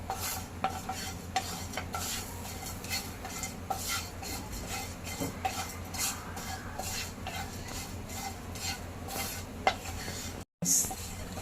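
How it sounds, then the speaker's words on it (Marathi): Whole garam masala spices dry-roasting in a pan, stirred continuously with a spoon that scrapes and clinks against the metal, a close, busy rustle with faint sizzling and a brief dropout near the end. "आपण हे गरम खडे मसाले हे पण आपण भाजून घेऊया"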